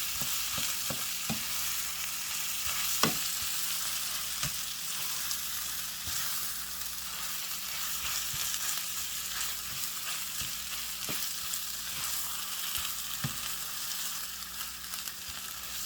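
Diced potatoes for a home-cooked Indian breakfast sizzle steadily in a pan, with occasional sharp scrapes and clacks as they are stirred and mixed; there is no talking.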